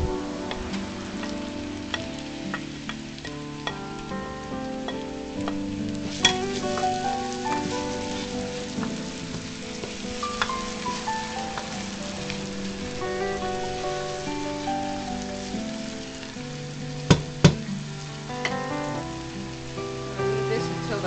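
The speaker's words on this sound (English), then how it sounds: "I'm going to add the onions." Onions sizzle in a hot pan while beef goto is being cooked, a soft continuous crackle with scattered pops and small spikes, kept low and steady, with faint music in the background.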